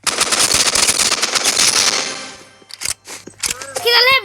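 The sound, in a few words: automatic gunfire in a video game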